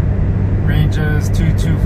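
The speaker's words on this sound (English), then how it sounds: "This is what the car sounds like with the top up and me doing highway speeds." A convertible with its top up cruises at highway speed, giving a loud, steady road and wind roar from inside the cabin, with a voice speaking briefly over it.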